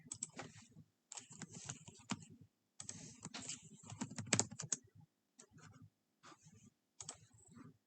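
Typing on a computer keyboard in bursts of quick, close key clicks separated by short pauses, quiet and with no talk.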